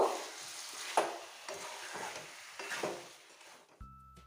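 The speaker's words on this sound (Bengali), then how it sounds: "এবার ওতে দিয়ে দেব ভেজে রাখা আলুগুলি দিয়ে আর একটু দু মিনিট কষিয়ে নেব" Fried potatoes stir-fry with chicken curry masala in a pan, a soft sizzle broken by repeated spatula scrapes and stirs at an uneven rhythm, close but fairly quiet, ending abruptly.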